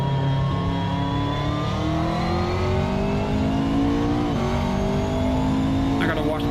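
A racing car engine in the game Assetto Corsa revs hard and climbs in pitch, its loud, buzzing whine rising steadily through the gears, with a brief squeal near the end.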